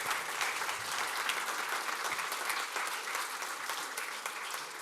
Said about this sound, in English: join me in giving a big applause to this excellent panel